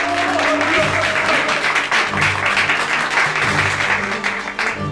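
Sustained crowd applause fills the whole stretch at a comedic show, dense and loud. A low hum and scattered voices run underneath.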